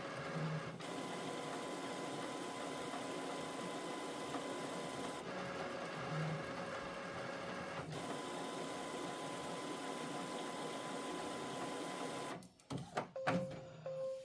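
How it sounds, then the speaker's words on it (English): An inkjet printer runs a sublimation transfer onto 13 by 19 inch paper for a polyester t-shirt, a steady mechanical whir with periodic carriage shifts, ending in a few clunks as the page finishes. "we're printing out on 13 by 19"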